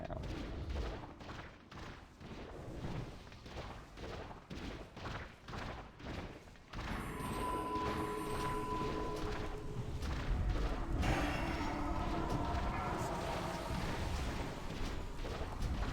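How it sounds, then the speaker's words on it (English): Cannon fire in the Ulduar raid of World of Warcraft: a rapid train of heavy booming shots for several seconds, then a denser wash of battle noise with ringing tones, loud throughout. "Note to self, cannon, highly effective against flesh."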